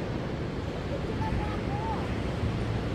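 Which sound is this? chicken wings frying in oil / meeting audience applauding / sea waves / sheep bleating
sea waves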